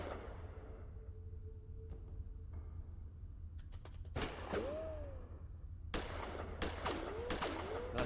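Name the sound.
gunshots in Gemini Rue video game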